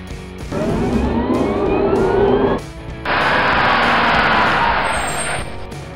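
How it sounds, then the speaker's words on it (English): An electric car hums with a rising, whining tone as it speeds up, then gives way to a steady broadband road rush, loud and close with no talking. "Electric car."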